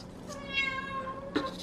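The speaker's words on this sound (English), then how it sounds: "My cat meows so much" A pet cat meows indoors, with one long drawn-out meow in the middle and shorter calls on either side, close and clear, with no talking.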